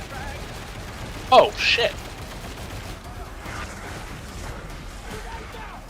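Gunfire in a multiplayer shooter game: a short, sharp burst of shots near the middle, over a low, steady background, with someone talking and cursing around it.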